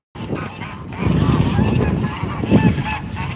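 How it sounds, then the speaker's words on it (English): Geese honk loudly and repeatedly while fighting at a lake, overlapping harsh calls close by with splashing and scuffling underneath. "Here's a goose fight."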